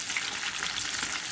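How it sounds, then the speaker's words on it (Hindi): Tempering for a mixed shahi masala dal crackles and sizzles in hot oil, a steady close frying hiss with fine popping, and no voices. "आखिर में जो आप भगार लगाते हैं, तड़का लगाते हैं"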